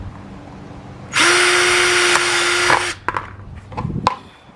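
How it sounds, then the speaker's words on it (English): A power drill bores a couple of holes into a plastic beach umbrella base where the bottom slopes up toward the sides, giving one loud, steady whine of almost two seconds that cuts off, followed by faint handling clatter. "Just drilled another."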